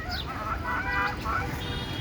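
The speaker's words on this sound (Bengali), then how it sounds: "দেখেন, আমি দেশি মুরগি পালতেছি।" Desi hens on a Bangladeshi poultry farm clucking in short, busy bursts, fairly close and continuous over a brief stretch with light background noise.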